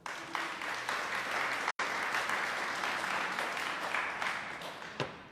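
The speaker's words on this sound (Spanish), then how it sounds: "Dale un aplauso al Creador." An audience at a religious Torah teaching claps together in sustained applause, broken by one brief cut before continuing to the end.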